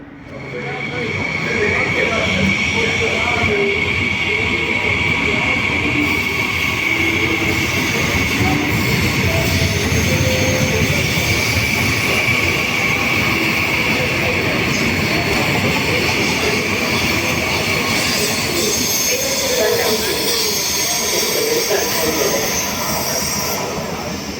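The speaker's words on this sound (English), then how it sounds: "Train in transit on platform 3." A train rolls through a platform at Padova station, with a steady rumble and rail noise filling the whole stretch and a high squeal running throughout, sounding close.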